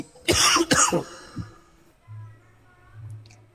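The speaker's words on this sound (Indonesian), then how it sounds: "Lagi batuk." Two loud, harsh coughs close by, followed by a quieter throat sound and then near silence with a faint low hum.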